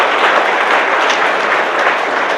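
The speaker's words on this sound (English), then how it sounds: "So give Elihu a round of applause" An audience at an evening civil rights lecture series gives a round of applause, a dense, even patter of many hands clapping at moderate loudness without pause.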